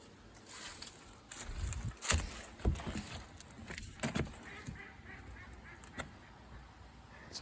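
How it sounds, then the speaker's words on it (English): A duck gives a few sharp, close quacks in quick bursts, separated by quieter moments with some handling noise, outdoors during target shooting. "Sounds like a duck laughing."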